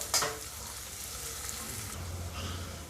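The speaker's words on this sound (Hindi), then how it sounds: "इसको हल्का सा फ्राई करेंगे, बहुत ज़्यादा फ्राई नहीं करेंगे" Onion lightly frying in a pan for beef brain masala, a soft steady sizzle with a brief clatter at the start, fairly faint and close, no talking.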